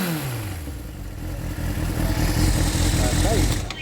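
Suzuki Bandit 400 motorcycle engine revving up and running with a rough, clattery mechanical noise from a fault, loud and close, with people talking over it.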